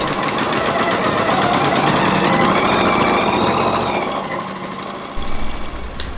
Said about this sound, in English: So I'm gonna quilt this and the back of it.